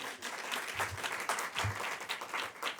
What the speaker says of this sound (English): Round of applause for Senator Amy Klobuchar.